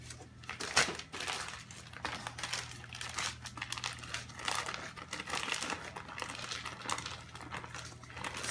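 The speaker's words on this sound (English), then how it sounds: "scrape all that down" A tool scrapes material down in close, repeated scratchy strokes with crinkly, crackling texture and a steady low hum underneath; no one speaks.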